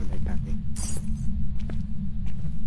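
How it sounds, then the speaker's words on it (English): Glass shatters in the horror game Phasmophobia, a single bright crash that trails into tinkling under low, rumbling game noise, with a few faint knocks afterward. "I heard it break a glass."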